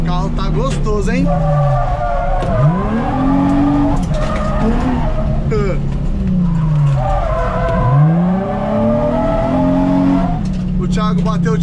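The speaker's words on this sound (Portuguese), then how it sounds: "Sem mais enrolação, partiu pro drift." Tires skid and squeal as a Nissan 350Z drifts, the engine swooping up and falling away in repeated loud passes, with rasping bursts of rubber scrubbing close by.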